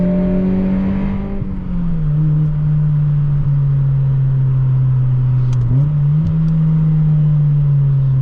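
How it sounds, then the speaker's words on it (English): Mazda Miata NB2 engine under load at close range, a steady mid-pitched drone with a brief dip and blip partway through as the revs change during a downshift, with no talking. "Downshifts are nice and easy."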